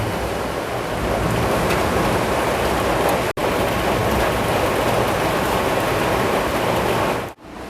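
Steady heavy rain roars loudly and continuously, with a low rumbling undertone that may be thunder; the sound drops out abruptly twice, once briefly near the middle and again near the end.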